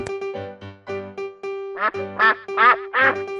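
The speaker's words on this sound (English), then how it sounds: "Duck." A duck quacks in a kids' animal-sound sequence: a run of short rhythmic quacks, then four louder, raspier quacks in steady succession, close and clear with no talk.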